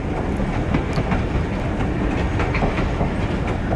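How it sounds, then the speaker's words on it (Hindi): The 130DN Thal Express on its Rawalpindi to Multan run, rolling toward Mebal station in the evening, with loud, steady, close rumbling and rattling wheel noise and a rhythmic clatter throughout. "शाम के 5 बज रहे हैं और ट्रेन मेबल स्टेशन के लिए अप्रोच बना रही है"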